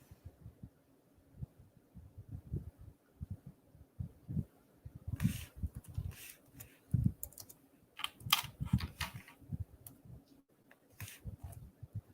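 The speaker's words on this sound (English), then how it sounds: "Okay, I got to type it in" Someone types on a computer keyboard nearby, with quiet low taps at first, then bursts of crisper keystrokes and occasional heavier key presses in an uneven rhythm over a faint background hum.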